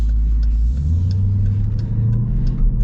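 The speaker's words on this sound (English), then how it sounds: "Just listen to that. It's such a smooth powertrain." A 2024 Dodge Durango Hellcat SUV engine hums steadily and pulls through a smooth acceleration, a low, even rumble heard close up with no talking.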